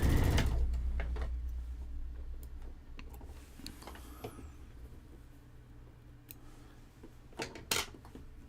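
Sewing machine stitching binding onto a quilt, a soft steady mechanical whir with scattered light ticks and clicks, close but fairly quiet, starting with a louder thump and no talking.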